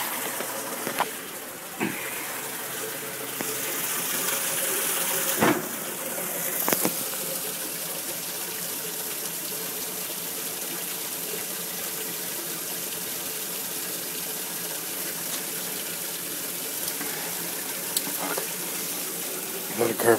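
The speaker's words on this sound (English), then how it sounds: "Carbonation." Hite beer, a Korean lager, fizzing steadily with carbonation, a continuous close hiss of bubbles with a few sharp clicks and knocks scattered through, no talk over it.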